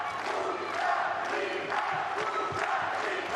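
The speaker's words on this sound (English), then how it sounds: "no wonder the Ukrainian fans are cheering" Ukrainian fans in a tennis arena at the 2025 Billie Jean King Cup, cheering Marta Kostyuk's break: a steady wash of crowd roar with scattered shouts and whistles throughout, no commentary over it.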